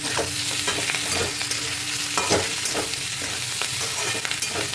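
Potato and cauliflower pieces frying in a pan with salt, a dense steady sizzle with scraping stirs and occasional clinks from a spoon, close and continuous without speech.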